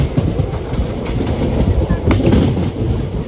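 A passenger train rolls along the rails in India, a steady loud rumble of wheels with faint clickety-clack, heard up close from onboard throughout.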